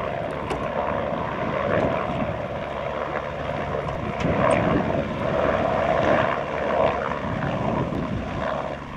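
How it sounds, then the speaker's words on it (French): Firefighting helicopters drone overhead above the Garlaban massif near Aubagne on a windy mistral day, a steady loud rotor and engine roar that swells and fades slightly, with no talking. "les norias d'hélicos s'enchaînent"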